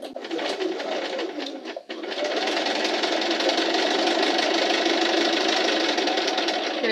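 A sewing machine stitches a zipper pouch: a short start, a brief pause, then a steady, even whirring run of the motor, close and fairly loud.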